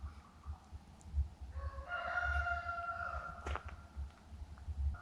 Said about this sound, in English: I think our neighbor's rooster is also pretty excited